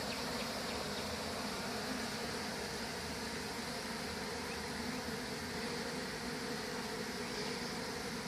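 A large swarm of honeybees that has just moved into a box hums as a steady, faint, continuous buzz, with no talking over it.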